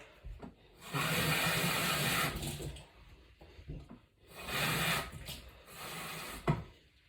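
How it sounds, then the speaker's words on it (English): Tap water runs into a mug in a home kitchen, in two steady rushing bursts of about a second each separated by a short pause, close by and fairly quiet. "I'm going to get a mug and fill it with some water"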